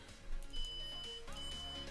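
Multimeter in continuity test mode giving a thin, steady electronic beep that holds for several tenths of a second, stops briefly, then sounds again, all over a constant background hum.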